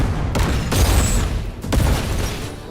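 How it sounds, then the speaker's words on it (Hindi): Loud booming blasts with a rumbling, crackling tail, several heavy bursts in quick succession like explosions in an action scene from the Telugu film Ustaad Bhagat Singh. "इस धमाके की आग यहां तक नहीं रुकेगी, उसकी लपटें दुबई तक पहुंचेंगी।"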